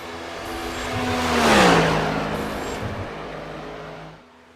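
A race car in the SRL sim racing game passes on a flying lap, its engine note rising as it closes in, peaking loud as it goes by and then dropping in pitch as it fades away.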